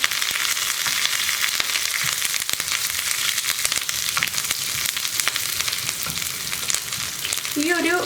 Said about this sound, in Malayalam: കടുക് പൊട്ടി കഴിയാറാവുമ്പോൾ ഞാൻ ഇതിലേക്ക് ചേർക്കുന്നത് റൗണ്ടിൽ കട്ട് ചെയ്ത ചുള്ളി ഉള്ളി